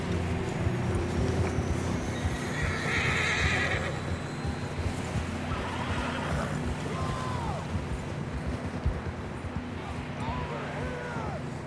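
Horses whinny repeatedly over a steady clatter of hooves in the video game Red Dead Redemption, with a busy, continuous background rumble and a few faint voices.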